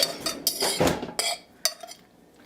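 A fork stirring cheese powder into macaroni in a pot for hamburger mac and cheese, heard as a few sharp metallic clinks and scrapes against the pot, close and fairly loud, with no talking.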